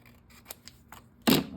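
A single sharp snip of scissors trimming a small item, one loud close cut after a few faint clicks and handling sounds in a quiet room.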